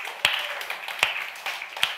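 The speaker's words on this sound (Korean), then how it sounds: "우리 선생님들 힘내시라고 박수 한번 칩시다" A church youth group in Korea claps for its teachers, a sparse, uneven patter of hands with three sharper claps standing out, fairly close and without speech.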